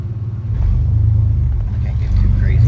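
Steady low exhaust rumble from a 1998 Chevrolet C1500 with a 4.3L V6, breathing through a dual-outlet Flowmaster Super 10 muffler with a 3-inch inlet and 2.5-inch outlets, droning at a near idle throughout with no sharp revs.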